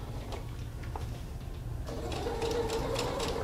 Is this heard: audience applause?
no